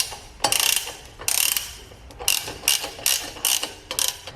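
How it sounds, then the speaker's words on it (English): Ratchet tightening a bolt on a Mazda RX7 engine near the turbo, heard as several short, close bursts of rapid clicking separated by brief pauses, with no talk. "I'm going to put a bolt in there so that everything sits all tight"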